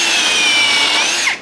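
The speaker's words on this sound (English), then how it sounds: "So the pre-drilling and countersinking all is like we did earlier on the" A power drill with a countersink bit whines loudly and steadily while pre-drilling wood boards for a table saw sled, then winds down at the end.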